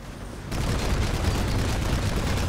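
Planetside 2 Reaver aircraft main guns open fire after a brief lull, a dense, continuous rattling burst of rapid shots that runs loud and unbroken to the end.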